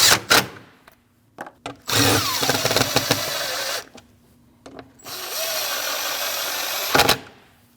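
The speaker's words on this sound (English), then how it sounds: "Put your 2/8 in your 10mm. Tighten those down." A ratchet with a 10mm socket tightens bolts on a 2014-2023 Jeep Cherokee 2.4L engine, heard as two loud, close whirring bursts of a couple of seconds each, separated by short knocks and clicks.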